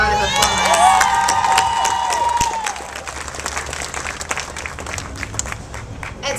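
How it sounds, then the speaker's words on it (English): A crowd at a Sacramento civic launch event breaks into cheering and high-pitched shouts and whistles that fade after a couple of seconds, followed by steady, moderately loud applause that continues to the end. "Let's give them a round of applause."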